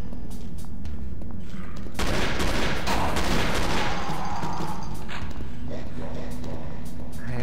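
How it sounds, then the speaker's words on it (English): Gunfire in the Doom 2 wad Possest, a weak-sounding shotgun blasting in a dense, loud burst of shots over constant game noise, with a voice talking over it. "Oh god, this is a garbage shotgun."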